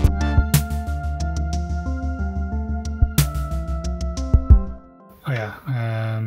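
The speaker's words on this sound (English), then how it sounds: "So the LFO will change both the frequency, cutoff, and volume." An Elektron Analog Four synthesizer plays a rapid repeating sequence of plucky notes while an LFO sweeps pitch, filter cutoff and volume, ending in a brief swelling, wobbling tone.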